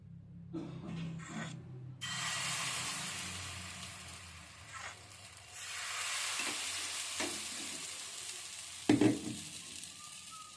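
A spoon stirs patishapta batter with soft scraping strokes at first, then a steady hiss-like rubbing continues with a few louder knocks near the end.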